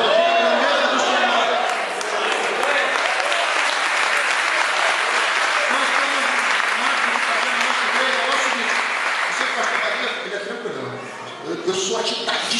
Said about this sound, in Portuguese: Começa a aplaudir a grandeza do Senhor.